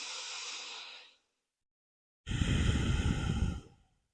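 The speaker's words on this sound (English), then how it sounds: "take a deep and calming breath through the nose" A deep, calming breath drawn in through the nose: a soft airy inhale, a pause of silence, then a longer, fuller exhale, close and quiet with no talking.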